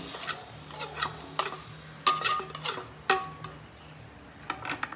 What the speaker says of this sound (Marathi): आता आपण गूळ टाकूया कढईमध्ये